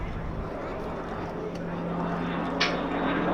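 RAF Tucano turboprop trainer diving during an airshow display, a steady droning engine and propeller roar at moderate distance, heard beneath a commentator's voice.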